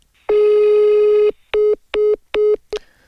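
Telephone tones on an unanswered call: one long steady beep followed by four short evenly spaced beeps, loud and clear with nothing else around them.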